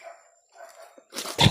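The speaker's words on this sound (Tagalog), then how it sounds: "May aso silang dala." Dogs bark outdoors near trees as pursuers approach, a few sharp, distant yaps followed by louder, closer barking at the end.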